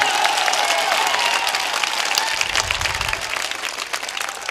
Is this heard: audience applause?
yes